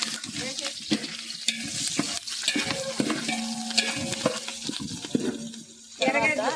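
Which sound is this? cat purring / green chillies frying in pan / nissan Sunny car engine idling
green chillies frying in pan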